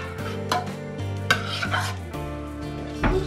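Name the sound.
stirring cheese into stuffed-crust pizza mixture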